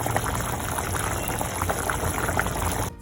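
Spicy misal pav gravy bubbling and simmering in a pot, a steady dense boiling hiss with soft popping that runs throughout before cutting off near the end.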